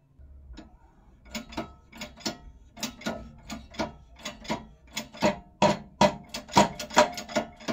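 A press machine forces a bearing or part into a Yamaha Mio M3 scooter transmission, giving a run of close, sharp mechanical clicks and ratcheting knocks that grow louder and quicker toward the end.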